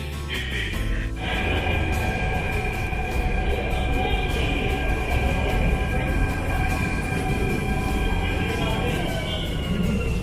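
Steady rumble and hum of a moving Delhi metro train heard from inside, with a high whine from the motors running throughout.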